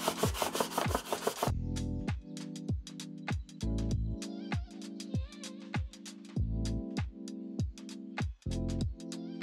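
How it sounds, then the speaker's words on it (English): A rock base for an HG Gunpla model is sanded flat, producing a rhythmic run of close, scratchy back-and-forth strokes with brief pauses between passes. "we're just going to sand down"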